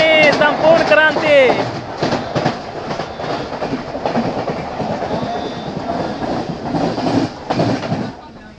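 South Bihar Express passenger train arriving at Patna, a steady rumbling roll with clickety-clack of coaches over rail joints, continuous and fairly loud throughout with a brief tonal squeal near the start.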